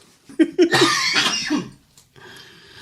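A burst of several harsh coughs close to the mic, followed by a raspy breath and quiet.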